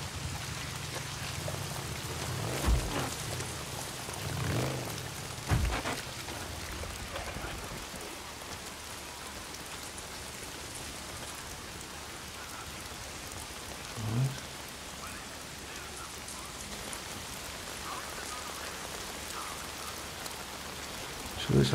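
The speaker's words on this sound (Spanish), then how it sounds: "La lluvia, la verdad que me ha venido muy bien, ¿eh? Que justo esté lloviendo." Steady rain falls in the PS4 game Days Gone, a constant dense hiss of drops on surfaces with a few low thumps and knocks breaking through, and no talking over it.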